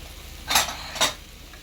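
Rice cooking in a closed waffle iron, giving two short bursts of sizzling hiss about half a second apart, then a quiet, low steady background.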